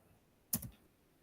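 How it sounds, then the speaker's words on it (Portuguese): A single keypress on a computer keyboard, the Enter key, gives one short, crisp double click in an otherwise quiet room. "Vou dar Enter."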